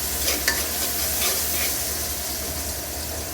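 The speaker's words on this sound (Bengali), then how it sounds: "এবার পেঁয়াজ দিয়ে দিচ্ছি। পেঁয়াজটা তাড়াতাড়ি নরম হওয়ার জন্য একটু লবণ দিয়ে দিব" Onions with a little salt frying in a pan, a loud, dense, continuous sizzle and hiss with brief scraping stirs near the start.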